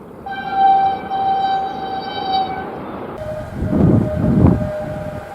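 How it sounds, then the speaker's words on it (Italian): Train horns sound as trains pass beneath a house in Italy: a long sustained multi-tone horn blast, then a lower horn note over a rising rumble of a passing train, loud and close with no talk. "Sentire i treni che suonano per me sotto casa mia è una cosa eccezionale"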